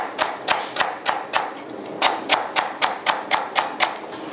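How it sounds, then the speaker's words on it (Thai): Rapid, regular knife chops slice lemongrass on a cutting board, a steady series of crisp taps in two quick bursts, close and clear. "ตะไคร้นะคะซอยค่ะ"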